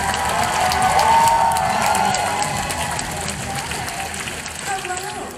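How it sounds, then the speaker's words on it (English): A convention crowd in a large hall at Comic Con Wales applauds and cheers, dense sustained clapping that slowly fades, with a few whoops rising above it and a voice over the noise. "Make some noise for Billie Piper."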